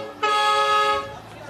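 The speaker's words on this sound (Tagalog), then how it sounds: "Pedicab, may busina." A single steady horn honk from a pedicab close by sounds for nearly a second, bright and nasal.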